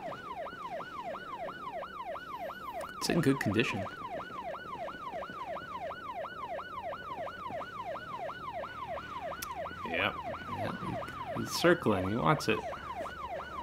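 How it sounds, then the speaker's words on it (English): An ambulance siren in a video game wails in steady rising and falling cycles throughout. Voices talk over it in short bursts. "Ah, somebody hit the siren."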